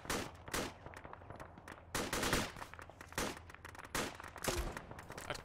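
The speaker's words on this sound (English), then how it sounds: "We're firing HE grenades into the graveyard ahead of you." HE grenades and gunfire in the Arma 3 military simulator: irregular sharp bursts and dull booms recur every second or so, fairly distant and faint, with short gaps between volleys.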